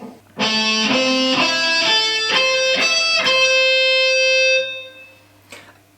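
A guitar plays a quick minor arpeggio of picked notes climbing and ringing together, sustaining for a few seconds before fading, followed by a faint click.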